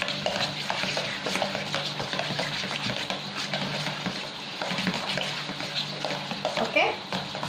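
Pempek fish dough is stirred quickly in a pot, giving a continuous wet, thick churning and scraping sound with a faint sizzling wash, steady and close.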